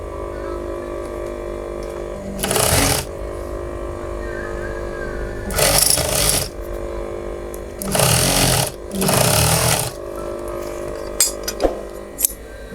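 A sewing machine stitches thin, lightweight fabric for a goono garment in several short bursts of loud, close, rapid needle chatter, separated by quieter pauses filled with a few light clicks.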